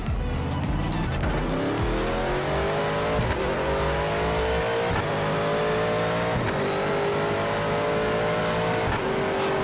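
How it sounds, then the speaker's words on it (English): A Ford Mustang roars loudly in a VR racing game, its engine climbing through revs with harmonic whine while tires squeal and skid as the back end loses grip, continuous throughout. "Yep, classic Mustang. Back end can't grip for nothing."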